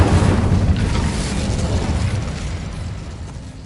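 The Incendio fire spell blasts off in Hogwarts Legacy, a loud, broad fiery burst that hits at once and slowly fades over a few seconds, with no voices.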